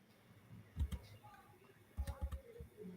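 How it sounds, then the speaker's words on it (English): Keys clack on a computer keyboard during a live-streamed online finance competition. Two short clusters of quiet, quick clicks are heard, distant and faint, and they come through a remote microphone over low background hiss. "I can hear your keys clack, but I don't hear any answers"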